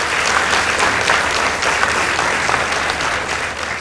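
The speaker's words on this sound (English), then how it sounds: "Let's give them a round of applause." A school audience at a contest between Matungulu Girls High School and Machakos Academy applauds, a dense, steady burst of clapping filling the room, loud and continuous.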